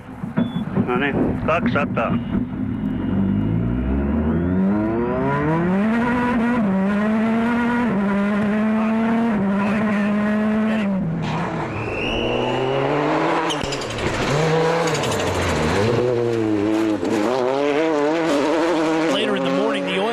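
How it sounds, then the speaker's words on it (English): Skoda Fabia WRC rally car with a slipping clutch at the 2003 Wales Rally GB: a loud, near engine revs high and sweeps up and down through repeated gear changes, with tyre noise and a commentator talking over it. "His Fabia has major problems. The clutch is slipping."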